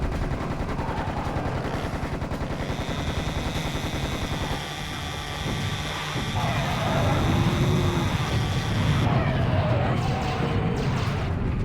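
Rockets and gunfire blasting in the Serious Sam Revolution game, a rapid dense barrage of loud booming shots and explosions layered over a constant rumbling background, intensifying in the second half.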